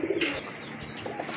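A female pigeon at a pigeon sale gives a short, close, soft cooing call, with no other sounds around it.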